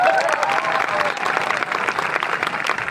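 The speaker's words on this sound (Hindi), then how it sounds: "ताली बजा दो ढंग से" An audience applauding in a hall, dense steady clapping from many hands throughout, fairly loud and even, with a voice faintly mixed in.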